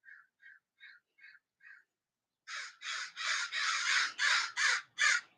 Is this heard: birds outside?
yes